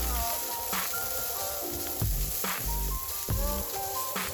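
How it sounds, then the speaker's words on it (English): Ginger and the white parts of spring onions fry in hot oil for a crispy noodle stir fry, a continuous sizzle running under background music. "Now, to fry off the aromatics. Start with ginger and give it a second. Add the spring onions next,"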